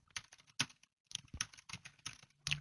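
Rapid bursts of typing on a computer keyboard, close and fairly quiet, with uneven clusters of keystrokes broken by a short pause.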